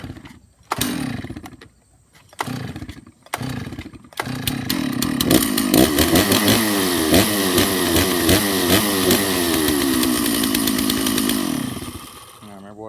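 A Stihl chainsaw sputters through a few short pull-start attempts, then catches and runs at a loud, steady roar, close by, before cutting off near the end.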